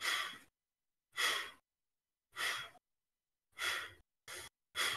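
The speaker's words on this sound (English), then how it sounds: "Breathe to your belly. In with peace, out with stress. Keep breathing." Six slow, soft breaths move through the nose during a quiet breathwork exercise. Four long, evenly spaced exhales are followed by two shorter, quicker ones, all close and alone.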